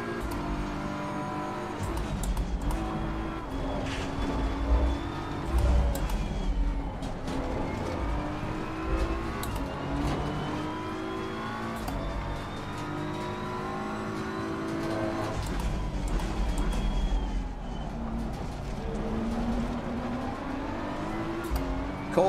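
Audi race car engine in a racing video game, a steady high whining drone with rising and falling pitch sweeps as the car accelerates and shifts, joined by other cars' engines close behind, continuous with no talk.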